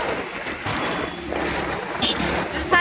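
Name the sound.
strong wind blowing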